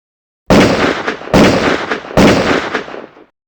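Three loud, sharp gunshot blasts in quick succession, each with a short booming tail, isolated against silence.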